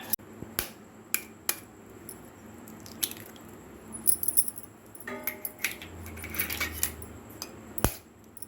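Chopped onion being mixed by hand in a bowl for an omelette: sparse, soft squishing and light clicking taps at irregular intervals, quiet and close, with no talking.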